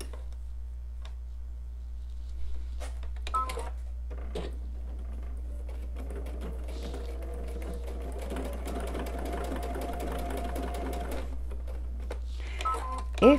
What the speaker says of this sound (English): Let me just sew over it again.